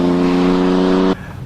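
Turbocharged BMW M4 F82 engine revving hard at a steady high pitch with a strong harmonic drone, loud and close, then cutting off abruptly near the end.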